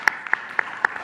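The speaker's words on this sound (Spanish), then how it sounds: "Un aplauso." A few sparse claps ring out in a small gathering as a guest, Arturo Pavón, is welcomed: roughly four distinct, well-spaced hand claps over about a second, moderately close and thin rather than a full ovation.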